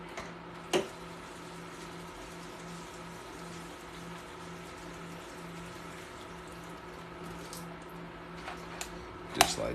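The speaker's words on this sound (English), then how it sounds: "But I'm gonna fill my water bottle." Water running steadily from a tap into a water bottle, with a low hum underneath and a couple of sharp clicks at the start and end.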